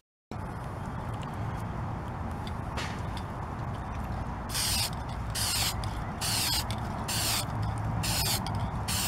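Quiet mechanical rattling at first, then a burst of rapid, rhythmic clacking as a spray can is shaken hard in several quick bouts.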